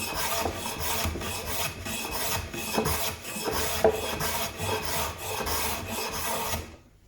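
A corner of wood being ripped out by hand with a saw or rasp, rhythmic rough rasping strokes repeating steadily up close, ending abruptly in silence.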